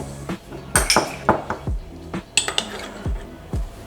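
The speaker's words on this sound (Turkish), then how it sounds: "Şöyle bir kase aldım. Makarnamı kasenin içine aldım." Dishes and cutlery clink sharply as fettuccine pasta is put into a bowl for Italian-style Fettuccine Alfredo, with several close, bright knocks and rattles spaced irregularly and no talking.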